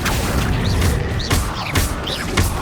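Confringo fire-blast spell in Hogwarts Legacy, cast again and again in a magical duel: several sharp crashing bursts land about every half second, loud and close, amid whooshing spell effects.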